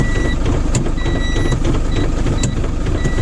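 Air brakes being operated on a truck to dump the air, heard as a loud continuous hiss and engine rumble with repeated sharp warning beeps sounding at intervals.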